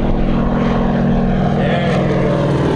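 A large-scale RC warbird model airplane makes a low flyby, its loud propeller engine droning steadily and shifting in pitch as it passes close overhead.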